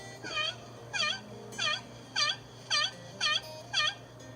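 A wild turkey yelp is imitated on a slate call worked with a striker, sounding as seven evenly spaced, clear raspy yelps about half a second apart, close and alone against a steady low hum.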